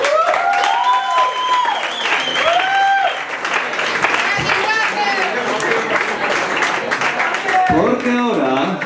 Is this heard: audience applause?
yes